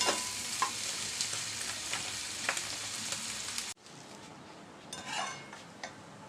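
Egg and bitter gourd fry with coriander leaves stirred in a hot pan: steady loud sizzling with spatula scrapes, then it abruptly drops to a quieter frying hiss with a few soft stirs.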